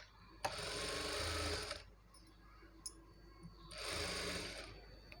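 A sewing machine top stitching lining cloth, running in two bursts of a few seconds each with a pause between, close and steady.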